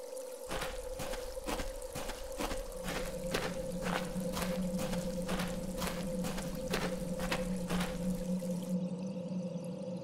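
Fresh running water trickling and pouring inside a deep natural well in a video game, a steady liquid flow under a sustained tone with a regular rhythmic tapping pulse repeating across the clip.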